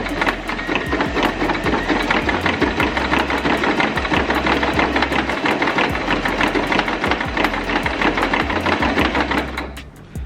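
A sewing machine zigzag stitching along a hair weft for a wig, with a rapid, steady mechanical chatter and low motor hum running nonstop, loud and close, before slowing and stopping right at the end.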